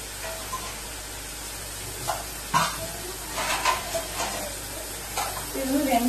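Mixed vegetables for fried rice sizzling in a pan, with a soft hiss underneath and several scraping strokes of a spoon stirring them at irregular intervals.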